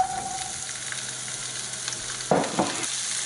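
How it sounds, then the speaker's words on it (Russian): Garlic scapes sizzle and crackle in a hot pan over high heat, with a few scraping stirs near the end. "И жарим на полном огне минутки 3. И непрерывно помешиваем."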